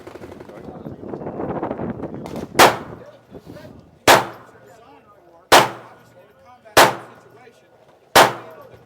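Smith & Wesson handguns, including a Performance Center 1911 loaded with Federal ammunition, firing on an outdoor shooting range: five sharp, loud shots at evenly spaced intervals with ringing decay, preceded by a stretch of talk.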